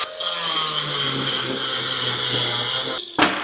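A handheld grinder bites steadily into a piece of smelted scrap metal, a loud, continuous harsh whine with a broad gritty hiss that holds for about three seconds before cutting off abruptly and restarting.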